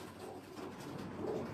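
A big-winged pigeon coos in a low, soft murmur that swells slightly toward the end of a short, steady stretch, with no talking.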